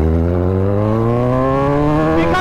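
Kawasaki Z1000 motorcycle accelerating hard, a loud, close engine note with steadily rising pitch as it revs through the gear, continuous and alone without talk.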